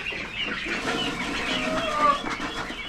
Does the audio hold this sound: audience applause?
no